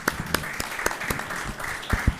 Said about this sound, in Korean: 박수로 맞으세요.